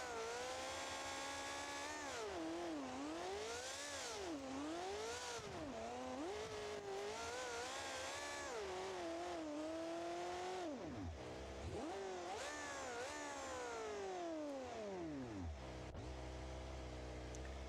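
Monster truck V10 engine in BeamNG.drive revving hard again and again, the pitch swooping up and down in repeated climbs before a long falling wind-down near the end, loud and with no talk.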